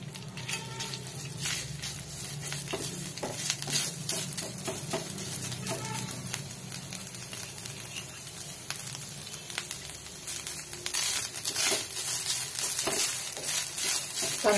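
A cup of grated coconut roasts in a spoonful of ghee in a pan for modak filling, giving a dense, continuous close sizzle with constant stirring scrapes and no talking.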